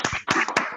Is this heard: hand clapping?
yes